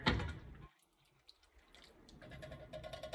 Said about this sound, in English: Now we're gonna go ahead and use that coconut milk, the whole can. Pour that guy in there.